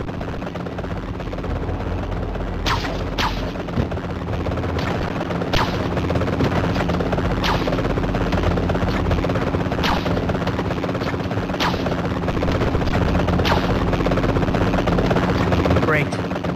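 Helicopter in the PSP game Spider-Man 3, a steady loud rotor drone throughout with sharp intermittent bangs and gunfire-like cracks over it, and game voices talking at times.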